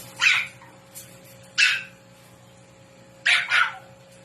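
Small teacup Pomeranian at a pet market gives four sharp yapping barks in two bursts, spaced over a few seconds, fairly near and clear above a low steady background hum.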